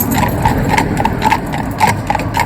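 Horse being ridden out as a schoolmaster, its hooves clip-clopping in a steady even rhythm, close and loud over a continuous background noise.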